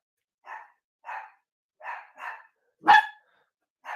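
Dogs barking in short separate bursts, about six barks spaced irregularly with silence between them and one sharper, louder yelp near the end, close and clear with no talking.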